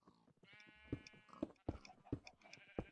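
Goats in the Minecraft video game bleat repeatedly in short, close, fairly loud calls with a steady rhythm, heard alone without any talk over them.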